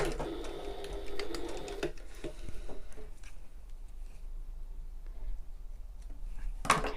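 A sewing machine stitches across the short end of a bag's fabric, a close mechanical run for under two seconds that stops, leaving a quiet room with faint handling sounds and a small click at the end.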